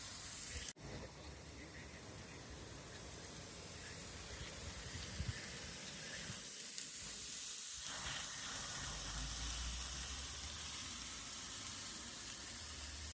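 A large piece of rump steak sizzles in a pan while cooking outdoors, giving a steady, fairly faint hiss and crackle with a brief knock near the start.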